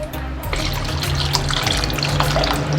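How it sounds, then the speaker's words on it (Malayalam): Cornflour mixed in water poured into papaya halwa cooking in a pan, a continuous close liquid splashing and trickling with faint bubbling underneath, alone without voices. "ഇനി നമ്മൾ നേരത്തെ എടുത്തു വെച്ചിരിക്കുന്ന കോൺഫ്ലവർ 1/2 കപ്പ് വെള്ളത്തിൽ നല്ലതുപോലെ കലക്കി നമുക്കിതിലേക്ക് ഒഴിച്ചു കൊടുക്കാം."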